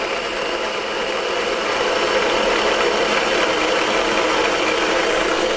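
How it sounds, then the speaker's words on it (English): An electric blender whirs continuously while blending charmoula sauce in a home kitchen, a steady, dense motor drone with a gritty buzz that holds at an even loudness throughout. "We're going to start blending that up."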